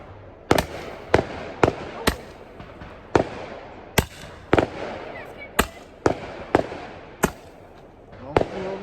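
New Year's fireworks burst in a rapid series of about fifteen sharp, loud bangs spaced roughly half a second apart, echoing against a low crackling background.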